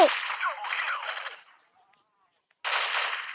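Rapid automatic gunfire rattles from a shooting video game in two bursts, one long and one short, separated by a near-silent pause.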